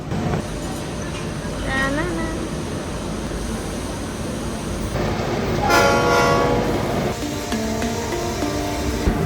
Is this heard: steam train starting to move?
yes